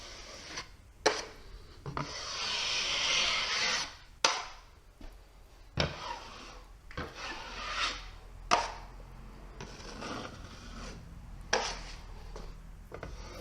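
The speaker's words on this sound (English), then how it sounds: "I'm just going to wipe that edge down." A drywall knife scrapes joint compound along an inside drywall corner over paper tape in repeated soft wiping strokes, each ending in a light tap, close and fairly quiet.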